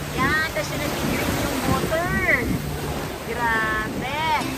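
Sea water and waves wash steadily at Boracay beach with a continuous broadband rush and wind buffeting the microphone, while voices carry faintly over it.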